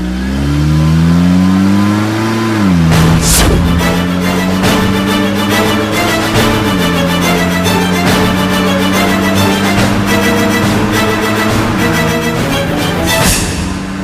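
A car engine revving and pulling away, loud and close, with the pitch sliding as gears change and the engine holding a steady drone under music.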